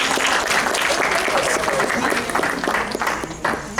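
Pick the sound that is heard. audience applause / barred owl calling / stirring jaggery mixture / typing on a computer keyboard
audience applause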